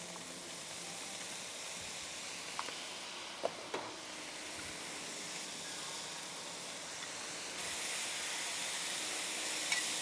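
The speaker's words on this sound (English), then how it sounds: "They're going to create a nice steam for everything and cool down the griddle just a little bit." Frozen peas hitting a hot Blackstone griddle with fried rice, sesame oil, liquid aminos and rice vinegar give a steady close sizzle and steam hiss that swells louder toward the end, with a few small pops along the way.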